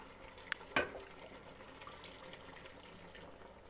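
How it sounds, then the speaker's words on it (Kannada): A brief splash of water being poured into a simmering chicken gravy in a cooking pot, a single short burst over a low, steady kitchen background. "ಚೂರು ನೀರು ಹಾಕ್ಕೋತೀನಿ"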